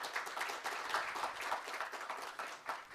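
Applause from an audience at a Korean digital talent development forum during an ICT R&D event, a steady dense clapping texture that stays fairly even and moderately quiet for the whole stretch.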